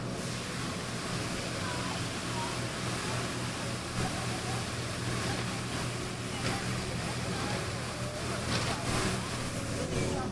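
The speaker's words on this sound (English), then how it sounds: "the street sweeper almost got us" A street sweeper passes on a street in Rome, a continuous broadband whooshing and brushing noise close by, with wind-like rumble and people talking faintly underneath.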